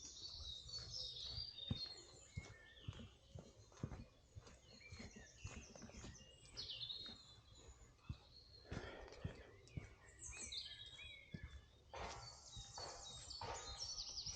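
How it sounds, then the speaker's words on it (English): Several birds chirp and sing in overlapping, fairly faint calls outdoors in a park in St Helens, Merseyside, with soft rustling and scattered ticks throughout. "All the birds are singing"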